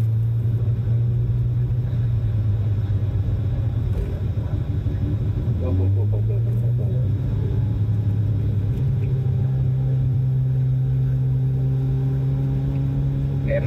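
Mazda RX7 with a self-built naturally aspirated bridgeport 13B rotary engine revving up through the gears, a loud raspy drone that climbs, dips at a shift and climbs again, heard from inside the car.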